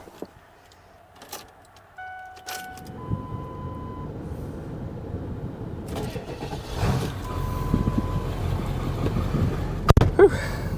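Keys jingle and a door thunks before a 2001 Ford Excursion XLT's 7.3L Powerstroke diesel cranks and fires, settling into a loud, steady idle that builds in level, with a few brief chimes and clicks.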